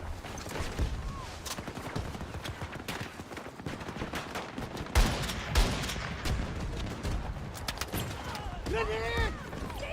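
Gunfire in a Battlefield video game with a new .50 cal sniper rifle, a busy mix of sharp shots and a couple of heavier booms among battle noise, with people talking throughout.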